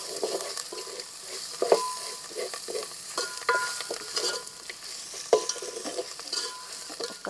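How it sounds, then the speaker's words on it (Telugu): Fresh coriander and mint leaves sauté in a pan for a coconut milk chicken pulao, giving a soft, continuous sizzle with frequent light scrapes and taps of stirring close by. "ఇప్పుడు ఇవి కూడా ఆకులు మంచిగా మగ్గించుకోవాలి ఇందులో."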